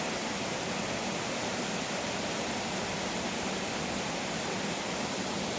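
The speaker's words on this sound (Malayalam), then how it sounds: "ആ വെള്ളച്ചാട്ടത്തിൻ്റെ സൗണ്ട് കേട്ടിട്ടാണ് ഞാൻ ഇങ്ങോട്ട് വന്നത്" A waterfall rushes in a broad, steady roar of falling water, unbroken and even throughout, with no voices or other sounds.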